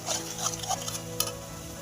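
Masala roasted in oil for a Maharashtrian black fish curry, heard as a close, steady sizzle with light scraping and clinking of a stirring spoon in the pan.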